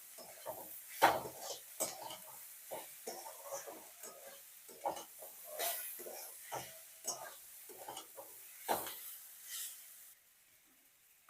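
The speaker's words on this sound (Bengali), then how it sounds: "লবণ হলুদটা দেওয়ার পর এটা মিশিয়ে নেব আলু আর পেঁয়াজের সাথে।" Turmeric and salt being stirred into potatoes and onions in a pan: a string of soft scraping clinks and sizzling swishes, irregular and close, with quiet stretches between strokes.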